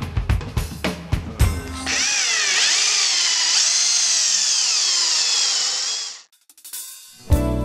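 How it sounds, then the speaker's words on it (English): A power drill driving screws at a Taiwanese screw manufacturer, a loud sustained whine rising in pitch for about four seconds, preceded by clicks and short handling knocks, then stopping abruptly. "Lower drilling torque makes the job easier and faster."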